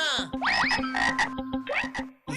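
A frog croaks loudly and close, a string of rapid, warbling calls repeating over about two seconds with no talk.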